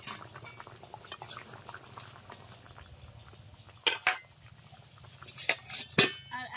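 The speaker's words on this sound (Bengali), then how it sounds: "জাল করার পর টকবক করে ঝোল ফুটছে" Prawn curry gravy for a Bengali prawn and green jackfruit dopiaza bubbles steadily at a low simmer, with a few sharp clinks of a utensil against the pot near the end.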